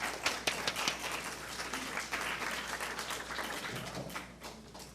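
An audience at a community forum on aging in place applauds a speaker, steady indoor clapping from a modest crowd that holds for several seconds and slowly thins out.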